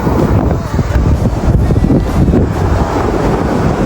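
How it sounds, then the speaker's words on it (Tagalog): Strong ocean waves pounding Ransohan Beach under stormy conditions, a heavy continuous roar of surf mixed with buffeting wind on the microphone, loud and close throughout. "Lakas ang alon, no?"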